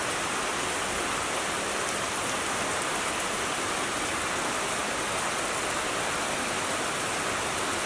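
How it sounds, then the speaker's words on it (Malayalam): Heavy rain falling outdoors in cold weather, a steady dense hiss of drops pattering on surfaces, even and continuous throughout with no voices. "ഇവിടെ നല്ല മഴ പെയ്തുകൊണ്ടിരിക്കട്ടാ."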